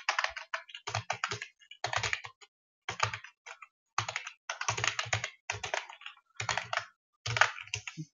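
Code being typed on a computer keyboard, quick bursts of crisp key clicks separated by short pauses, close and clear with no talking.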